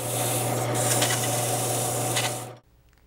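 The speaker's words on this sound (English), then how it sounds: "All that remains now is a little sanding, and this rim will be ready to take off the lathe." Steady abrasive rubbing of sandpaper against a spinning wooden banjo rim on a lathe, with a constant low machine hum underneath, stopping abruptly near the end.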